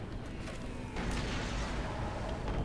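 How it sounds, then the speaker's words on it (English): Low rumbling blast and debris roar of an explosive charge going off in Star Wars Republic Commando, a steady heavy wash that swells after the first second and carries on. "The charge is set and ready to detonate."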